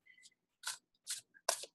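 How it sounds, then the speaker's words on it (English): Tarot cards are shuffled by hand in three or four short, crisp bursts of riffling paper, separated by brief pauses in an otherwise quiet room. "I'm just going to shuffle the cards here"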